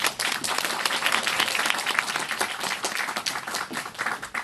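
Audience applause for a lecturer at a morning school talk, dense and steady clapping from many hands, fairly loud and close, sustained throughout without speech.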